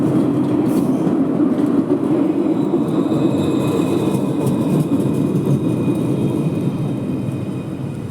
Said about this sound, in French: Ce tram il était hors service. Et celui-là, il va en gare de Montpellier